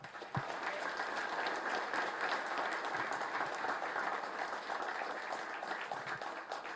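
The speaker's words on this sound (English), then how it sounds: "give them a round of applause" Outdoor crowd applause at a park anniversary gathering, a steady, fairly faint patter of many hands clapping that holds evenly for several seconds with no talk.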